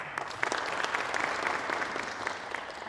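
Steady applause from an audience filling a conference hall at an agricultural extension symposium, dense even clapping throughout at a moderate level with no speech over it.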